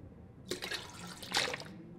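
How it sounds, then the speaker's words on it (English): Water sloshing and trickling as toilet water is collected in The Long Dark survival game, two brief soft splashy bursts, quiet and close. "We'll take the toilet water."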